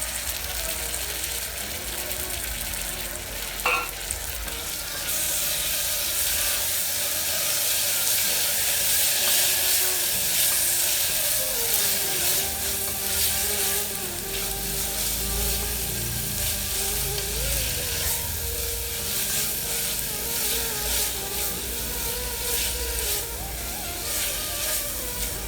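Onion and ginger garlic paste fry in a pan, making a loud, continuous sizzle with steady hiss and occasional stirring scrapes throughout.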